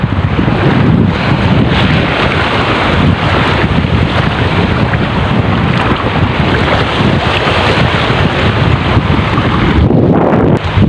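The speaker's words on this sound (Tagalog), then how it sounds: "At talagang malalaki na yung alon." Large waves crash and wash along a rocky shore while strong wind buffets the microphone, a loud, continuous roaring surge with rumbling low gusts throughout.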